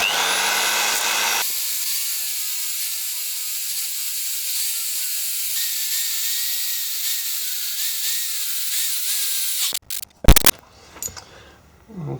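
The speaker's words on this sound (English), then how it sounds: "can go in there and just file away the top of that bolt" The top of a bolt on a car being prepared for electric conversion is ground away with a high, steady whine for about ten seconds, then the tool cuts off with a few clattering knocks.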